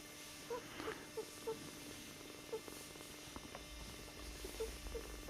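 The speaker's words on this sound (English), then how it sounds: "The little male here is purring." A newborn male kitten purrs softly and close by, a quiet steady rumble broken by small intermittent chirps and squeaks.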